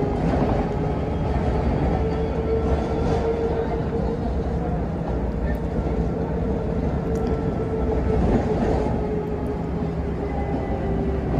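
A Mumbai monorail train runs along its elevated track, giving a steady rumbling, whooshing roar heard from onboard, continuous and moderately loud with faint background voices.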